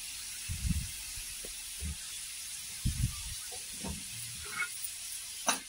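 Shredded cabbage and other vegetables lightly sautéing in oil for spring rolls, giving a faint, low hiss broken by soft stirring bumps and scrapes, with no talk.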